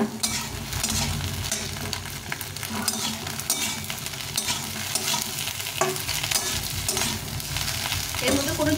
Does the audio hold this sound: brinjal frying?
yes